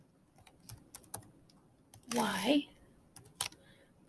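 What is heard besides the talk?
typing on a computer keyboard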